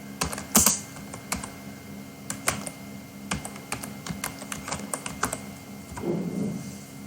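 Clicky keystrokes on a computer keyboard come in irregular bursts and single taps, close and moderately loud, with short pauses between runs of typing and no voices.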